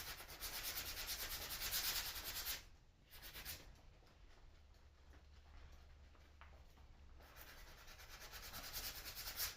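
Sanding the back of a vintage wooden children's rocking chair by hand: faint, steady rubbing strokes that pause briefly, then resume more softly.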